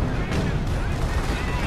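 A tank in Company of Heroes firing its main gun, a heavy booming blast rolling out amid battlefield rumble, loud and close for a short moment.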